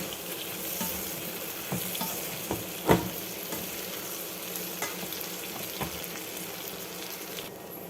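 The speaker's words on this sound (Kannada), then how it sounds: "ಈಗ ಇದಕ್ಕೆ ರೆಡಿ ಮಾಡ್ಕೊಂಡಿರೋ ಪುಡಿ ಹಾಕೋಣ ಈಗ ಇದನ್ನು ಚೆನ್ನಾಗಿ ಮಿಕ್ಸ್ ಮಾಡ್ಕೊಳ್ಳೋಣ" Raw banana frying in a pan as spice powder is stirred in, a steady moderate sizzle broken by occasional scrapes and knocks of the spoon.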